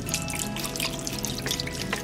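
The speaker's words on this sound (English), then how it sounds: "And then I'm going to pour all of my chicken broth in here too." Chicken broth poured into a crock pot for cheese and sausage tortellini, a steady splashing trickle of liquid, close and continuous.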